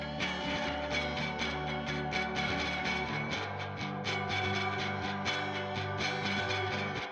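Dense, layered shoegaze guitar chorus in DAD AAD tuning plays continuously, a wash of strummed, compressed and amp-driven chords with rhythmic accents and shifting harmony, loud and alone without voices.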